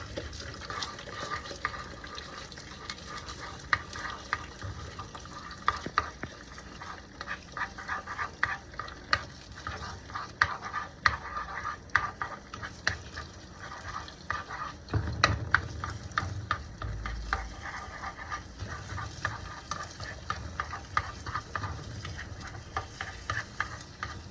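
Egg being stirred in a frying pan for fried rice, soft continuous sizzling with repeated scraping strokes of a utensil, fairly quiet and close with no talking.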